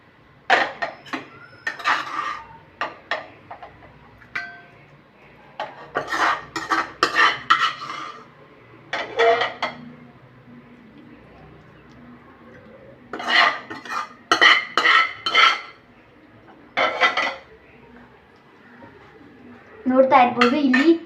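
A spoon scrapes and clinks as carrot halwa is scooped into a small container, irregular clusters of metallic taps and scrapes with pauses between, while a person talks over parts of it.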